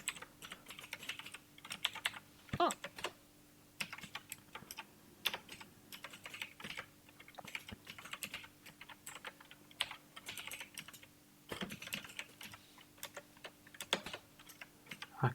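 Python code being typed on a computer keyboard: irregular bursts of soft, close key clicks with short pauses between runs, over a faint steady hum.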